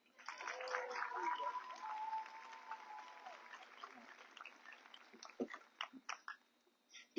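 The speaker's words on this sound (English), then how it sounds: "You guys can clap." Graduation-ceremony crowd applauding the announced class of 2024 valedictorian at SkyView Academy, a moderate burst of clapping that swells early, then thins into scattered claps and faint background voices.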